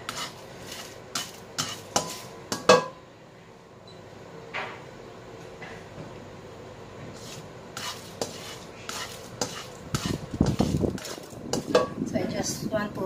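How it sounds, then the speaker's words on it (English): Dried chili stir-fried in a wok over a low flame for mala xiang guo: repeated scraping and clanking of a spatula against the pan over a soft sizzle, irregular strokes close up, with brief talking. "I just want to stir fry this one for a while."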